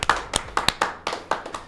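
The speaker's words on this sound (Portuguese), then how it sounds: "Uma salva de palmas para o Breno." Claps from a few people, roughly eight sharp uneven strikes over under two seconds, close and fairly loud, applauding Breno Perrucho at the end of an interview.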